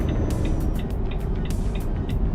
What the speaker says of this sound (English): The sound you hear is the lane keep assist